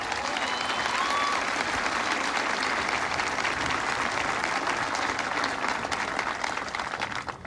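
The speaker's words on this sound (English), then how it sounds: "I want you guys to give her a big round of applause" Sustained applause from a large crowd of service members and families at Fort Stewart, Georgia, greeting Holly Petraeus at a presidential event, a dense steady wash of clapping that holds loud throughout with faint crowd noise mixed in.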